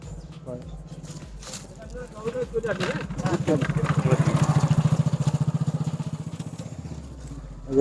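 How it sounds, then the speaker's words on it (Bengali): A motorcycle approaches along a track in Parmadan Forest (Bibhutibhushan Sanctuary), its engine throb rising to a loud, close pass and then fading, with faint voices nearby. "বাইক আসছে।"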